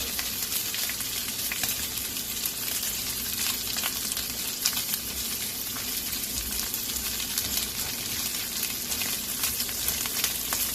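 Shrimp stir-fried in a pan for pineapple fried rice, giving a steady, loud, close sizzle with scraping stirs throughout and no talk.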